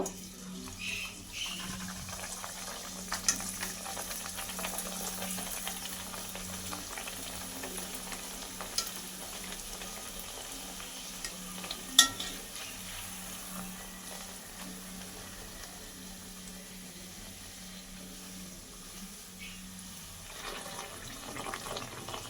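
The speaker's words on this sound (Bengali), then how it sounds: "নানপুরিগুলোই তেলের মধ্যে দিয়ে দু পিট লাল করে ভেজে নেব" Naan puri deep-frying in hot oil, a soft continuous sizzle with faint bubbling and occasional light clinks, fairly quiet and steady with no talking.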